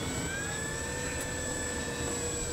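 An FMS F7F Tigercat 1700mm RC model plane taxiing out at its maiden flight, a steady whining electric motor hum with high-pitched tones, constant and fairly close throughout.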